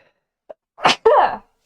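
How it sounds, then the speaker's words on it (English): A single loud, close sneeze: a sharp inhaled catch followed by an explosive burst, then silence. "that was a good sneeze"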